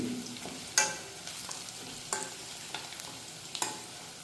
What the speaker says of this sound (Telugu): రెగ్యులర్ తాలింపు కంటే కొంచెం ఎక్కువగా వేగుతుంది